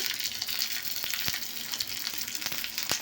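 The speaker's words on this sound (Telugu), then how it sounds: "ఆయిల్ అనేది ఒక స్పూన్ యాడ్ చేశాక ఇలాగా ఆవాలు వెల్లుల్లి ఆనియన్ మొత్తం అంతా కూడాను వేసేసుకోండి" Mustard seeds, garlic and onion fry in a spoonful of oil, making a continuous bright hiss broken by scattered sharp crackles and pops from the seeds.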